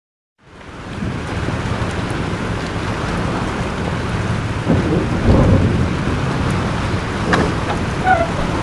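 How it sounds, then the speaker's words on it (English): Heavy thunderstorm in the video game Life Is Strange, with steady pouring rain and rolling rumbles of thunder that swell midway, a dense continuous wash with no voices. "This storm's real."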